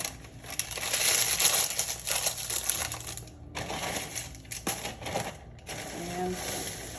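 Pre-cut parchment paper being handled and set down for blind-baking a pie crust, heard as close bursts of crinkling and rustling with short pauses between them.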